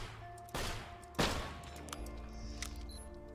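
A corrosive gun fires at vehicles in Borderlands 2: two sharp, separate bursts of shots followed by lighter crackling impacts, fairly quiet overall.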